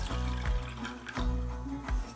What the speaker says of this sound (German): Nehmen wir das Wasser und schütten wir hier rein.